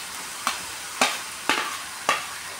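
A spoon scraping and turning fried potatoes with spices and green chillies in a pan for banana-flower ghonto, four evenly spaced clattering strokes over a faint sizzle, no voices.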